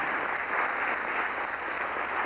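Steady, dense audience applause filling a hall after a spoken performance, continuous and even throughout with no voices over it.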